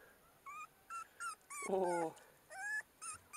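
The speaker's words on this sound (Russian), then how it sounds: "О, принесли щенка. Маленький такой." A small puppy gives a series of short, high whimpers and whines in uneven bursts, with one longer, lower whining cry in the middle, close and fairly faint against a quiet room.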